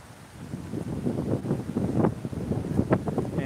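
Gusty wind buffets the microphone outdoors by a subway entrance with fountains nearby, a steady low rumble that swells in uneven bursts and stays loud through the whole stretch.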